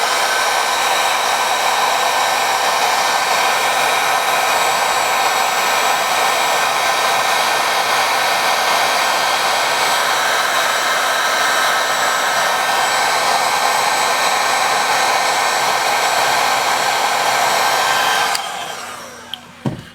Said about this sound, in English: use the heat gun and heat it up really well